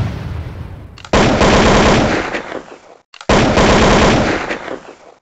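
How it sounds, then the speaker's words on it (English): Gunfire in the Roblox game Flag Wars: two loud, sustained bursts of rapid automatic shots, each lasting around two seconds and separated by a brief pause, heard up close with no talk. "Only one guy is here and we're firing."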